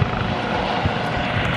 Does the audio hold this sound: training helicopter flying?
yes